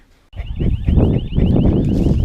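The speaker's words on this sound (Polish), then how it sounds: "alarm się włączył rojowy" A beehive swarm alarm starts abruptly, rapid repeating electronic chirping tones over loud rumbling wind noise, close to the microphone.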